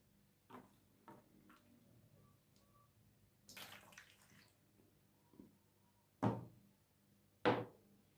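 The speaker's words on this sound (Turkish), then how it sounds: "Sütümüzü, suyumuzu ılık boşaltalım." Lukewarm milk and water poured into a bowl for pogaca dough: faint, sparse splashes and two short, louder pouring bursts near the end in a quiet kitchen.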